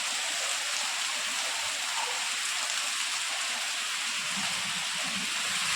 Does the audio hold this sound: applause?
no